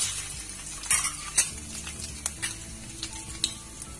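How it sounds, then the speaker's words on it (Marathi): Cumin, turmeric, ginger, garlic and curry leaves sizzle in hot oil while a spoon stirs the tempering, with scraping clinks against the pan over a steady crackle, close up and without speech. "तर फोडणी व्यवस्थित मिक्स करून घ्यायची"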